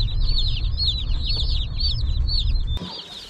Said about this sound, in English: Talk about a noisy ride home. These chicks are pretty talkative.